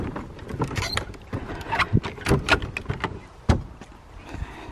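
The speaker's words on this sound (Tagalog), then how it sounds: "Sara ko na yung pinto." A cottage door is pulled shut before winter, with a run of rattling knocks, scrapes and clicks from the door and latch, close by and moderately loud.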